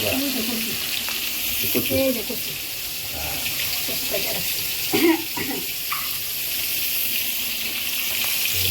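Fish frying in a pan in a home kitchen, a soft steady sizzle under running water and clatter while people talk nearby.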